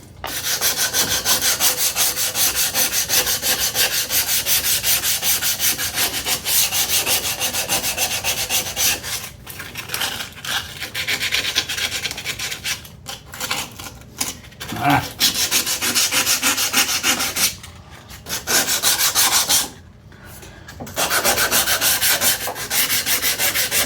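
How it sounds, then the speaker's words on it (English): Steady hand sanding of old grass clipper blades with 120 grit sandpaper, a continuous close rasping rub with brief pauses between strokes. "I just want to see how the hand sanding will do on the blades."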